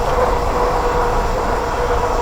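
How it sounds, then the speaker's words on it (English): Hub motor of an electric fat tire step-through bike whining steadily while riding, a constant close whir mixed with broadband road and wind rush. "Motor is a little noisy, but not too bad."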